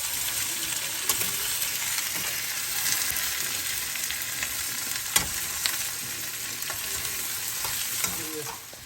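Onions sautéing in a pan for chicken dum biryani, a steady close sizzle and crackle with occasional spatula scrapes and clicks over nearly nine seconds, no one speaking.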